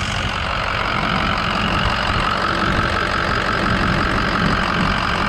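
A tuned 2007 Ford F550 diesel 4x4 Lariat with dual alternators idles close by, a loud, steady rumbling clatter that holds evenly throughout with no voices.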